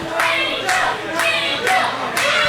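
Wrestling show crowd in a live arena, a steady roar of cheering and clapping swelling in repeated waves, loud and close throughout.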